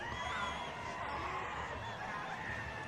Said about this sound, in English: The crowd enjoying this now.